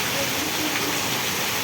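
Very heavy rain pours down on Vejalka village in Ranpur, Botad district, a constant loud hiss of dense falling water with no pauses, filling the whole moment evenly.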